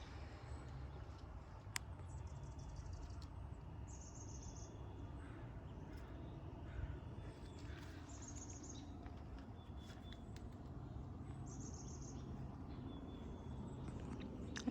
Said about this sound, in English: really enjoy hearing all the birds chirp and sing in the morning